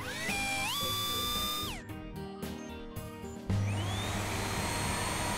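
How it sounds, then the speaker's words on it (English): A cartoonish whirring blower rises in pitch, cuts out, then gives way to a steady loud rushing hum, like a small hairdryer running. "I don't think that little hairdryer will melt this cold snow shower."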